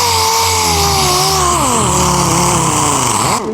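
Chinese-made air sander with a sanding disc running continuously at high speed, a loud steady whine with wavering pitch that drops as it loads up, then cuts off abruptly near the end.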